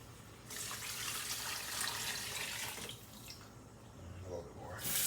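Beef stock pours steadily into a pot for a keto Japanese beef curry, a continuous watery splashing rush that runs for several seconds with a brief dip midway and swells again at the end.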